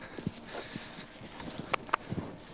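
Horse hooves clip-clopping on the ground during groundwork, led in hand over a small rise, with a few separate thuds and sharper knocks at close range and no talking.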